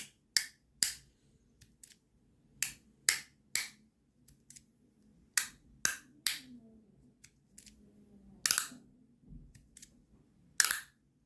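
Sharp, crisp clicks and snaps of a magnetic insert jumping between spots arrive in an irregular series, a dozen or so spread over several seconds, close and fairly loud against near silence.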